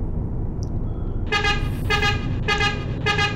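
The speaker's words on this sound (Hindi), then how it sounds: "हॉर्न दे रहा हूँ" A truck horn blares in an Indian truck driving simulator game on an offroad route, four loud repeated toots in a steady rhythm over a constant engine rumble, with no talking.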